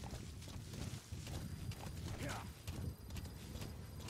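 Horse hooves clip-clopping in the video game Metal Gear Solid V: The Phantom Pain, a steady stream of hoof beats under continuous game sound and ambience.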